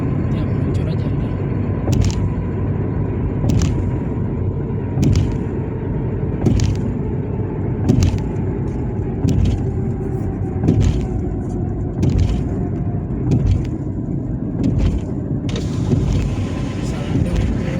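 Car driving on the Aceh toll road at night in the rain, a steady loud road and engine rumble with wind noise and rhythmic periodic thumps, a voice talking over it.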